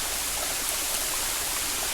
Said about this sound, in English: can you see the water just streaming down these rocks?